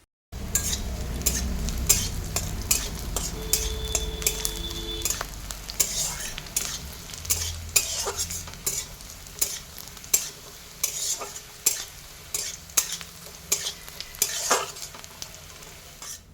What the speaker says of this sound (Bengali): পেঁয়াজগুলো বাদামি কালার যতক্ষণ না হয়ে আসছে ততক্ষণ পর্যন্ত ভেজে নিতে হবে।